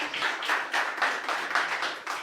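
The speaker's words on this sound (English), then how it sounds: "give yourselves a round of applause" A community meeting audience claps in unison, a rhythmic series of about nine evenly spaced loud claps, near and without talk over them.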